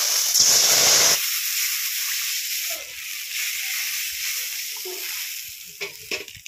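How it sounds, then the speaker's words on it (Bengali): Water is poured into a hot pan of oil tempered with black cumin, setting off a sharp loud hiss that eases into a softer, steady sizzle with a few faint clinks. "এবার জল দিয়ে দেবো।"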